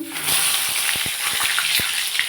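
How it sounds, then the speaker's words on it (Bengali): Brinjal and ridge gourd frying in hot oil, a steady close sizzle with intermittent low knocks and thuds from moving the pieces, no talking. "ঝিঙে এটা একটু ভেজে নেবো"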